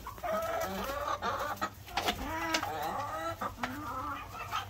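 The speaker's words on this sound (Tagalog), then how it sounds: "siguradong busog yung mga manok na ito" Chickens cluck steadily and close by, a run of short, bright calls overlapping one another against a low, steady background hum.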